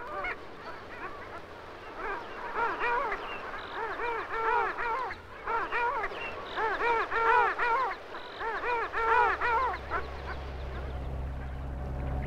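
A flock of barnacle geese (Branta leucopsis) on their migration route along the north shore of the Gulf of Finland give repeated nasal yapping honks in overlapping bursts, with a low rumble of wind rising near the end.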